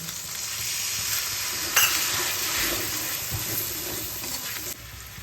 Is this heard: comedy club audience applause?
no